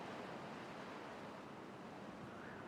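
Water flows down a channel in a beaver colony-building game, a soft, steady broadband rush like distant surf that stays even and faint throughout, with no voices.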